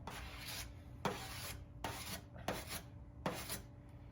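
Spreader rubbing Bondo body filler into dents on a Nissan 350z panel, close scraping strokes in a repeated rhythm, each pass a brief rasp with quiet gaps between.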